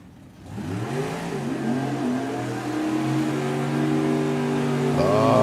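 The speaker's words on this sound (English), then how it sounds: "cute little side-by-side burnouts" Drag racing cars do side-by-side burnouts in a lane at a nationals qualifying meet, their engines roaring loud and close, climbing steadily in pitch as they rev hard over several seconds.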